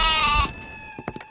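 A goat gives one loud, close bleat lasting about half a second, followed by a few faint thumps and clicks.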